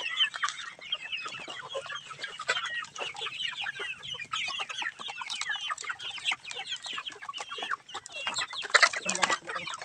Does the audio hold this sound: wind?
no